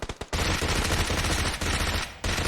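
Rapid automatic gunfire from the mobile game PUBG Mobile, a loud, dense stream of close shots running almost continuously with a couple of brief pauses.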